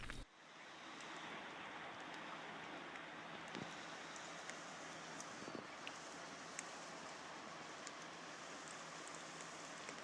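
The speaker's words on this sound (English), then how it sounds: "we woke up to a gentle rain shower in the bush." Soft, steady patter of light morning rain falling on surfaces in the bush, even and continuous with occasional distinct drips.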